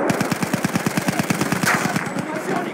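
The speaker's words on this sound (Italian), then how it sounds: "Attenzione, mitragliatrice!" A rapid burst of enemy machine-gun fire in a first-person shooter, about two seconds of steady rhythmic shots that taper off, heard alongside a voice speaking.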